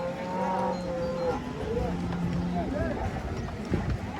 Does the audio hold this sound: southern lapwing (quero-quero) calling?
no